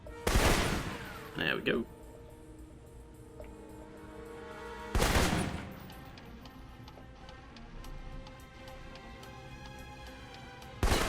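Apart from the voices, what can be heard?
assault rifle fire in video game Alpha Protocol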